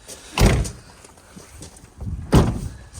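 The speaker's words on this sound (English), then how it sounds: "always make sure with the back doors you give them a good slam" The rear doors of an Autotrail V-Line 363SE motorhome van are slammed shut twice, two loud, heavy thuds about two seconds apart, each followed by softer rattles and clunks of the latch and body settling.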